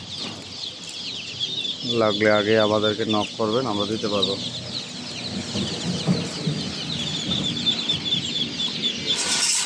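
Fifteen-day-old Chinese ducks at a poultry market: a burst of rapid, nasal calls from a flock rises over constant high chirping and market bustle, while someone talks throughout.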